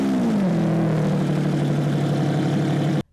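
A Lamborghini Revuelto V12 fires up instantly, a rising whir settling into a loud, steady idle hum up close before cutting off abruptly near the end.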